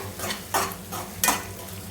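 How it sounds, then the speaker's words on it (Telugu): Onions with ginger garlic paste frying in a pan for egg biryani, a soft steady sizzle broken by two louder scraping bursts of stirring close by, no voices. "యాడ్ చేసుకొని ఇవన్నీ ఫ్రై చేసుకోవాలన్నమాట మంచిగా"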